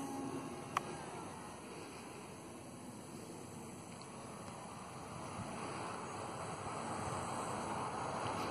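Wind gusting outdoors around a flying field for a large-scale RC microlight trike, a steady broad rushing and buffeting close to the microphone that builds slightly toward the end, with a faint click early on.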